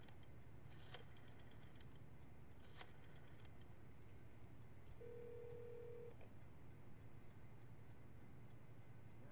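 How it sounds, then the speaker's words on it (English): A telephone rings in Metal Gear Solid 3, two short bursts of ringing early on, faint within a steady low background drone, with a brief tone later and no voices. "Second phone call."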